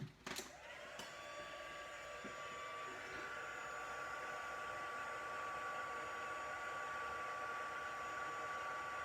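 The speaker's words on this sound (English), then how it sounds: "The hotter your heat tool, the quicker it kind of starts to set." A craft heat tool clicks on and blows hot air in a steady, loud whoosh with a high whine running throughout, used while setting embossing on snow-themed poinsettia crafts.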